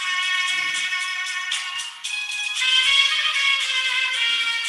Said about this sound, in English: is that your ringtone?